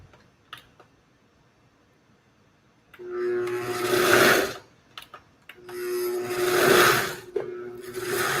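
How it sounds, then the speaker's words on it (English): A blender set to slow whirs through avocado salsa in two rising bursts of several seconds each, with clicks and knocks before, between and after them. Nobody talks. "This blender is really weird, but it's blending."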